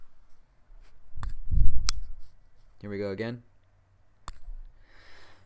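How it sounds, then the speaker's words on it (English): A Kizer pocket knife blade flicked open makes a few sharp, close clicks and a crisp detent snap, separated by short pauses, with someone speaking briefly between them. "This is the sound of me opening the blade"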